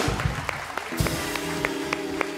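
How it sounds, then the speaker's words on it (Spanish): Studio audience applause for a guest on a live TV talk show, scattered claps over a steady background with music-like tones, brief and moderately loud. "Fuerte el aplauso para Arnaldo que contestó"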